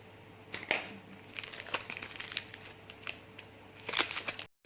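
Cardboard and plastic packaging of a Vivo phone box crinkles, rips and crackles in irregular bursts, close and fairly loud, with a sharper flurry near the end before it stops abruptly.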